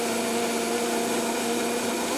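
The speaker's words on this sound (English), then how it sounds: "I'm using the Vitamix here today, which is a 2 horsepower, very powerful blender" A 2-horsepower Vitamix blender runs on high, a steady, loud, dense whir with a constant motor whine and no pauses, heard close and alone.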